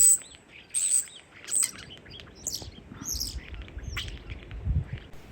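Varied chirps, whistles and squawky calls from starlings, several sharp notes early then a chattering mix of calls at moderate distance.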